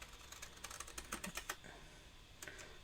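Scissors cut through card paper with a quick run of faint, crisp snips and crunches close by, then a short pause and a final few snips.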